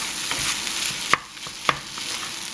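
Fried rice with peas stirred around a pan on a stovetop burner, a soft continuous scraping and shuffling over a low sizzle, with two sharp clicks of the utensil against the pan.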